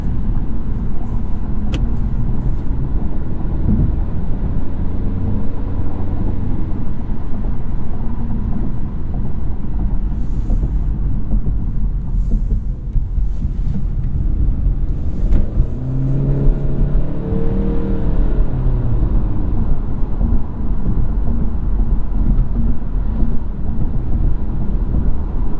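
Interior cabin sound of a 2016 Honda Civic Touring on the road, a steady loud engine and road hum with low rumble throughout, rising briefly as it accelerates midway, no voices.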